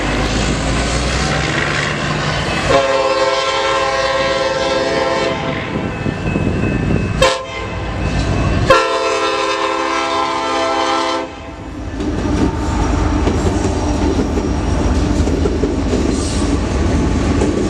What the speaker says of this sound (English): I rushed to see this Union Pacific train